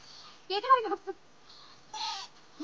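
Rooster and chicks make short, bright clucking and chirping calls in two brief bursts with quiet gaps between them. The calls are close and moderately loud and could be mixed with voices.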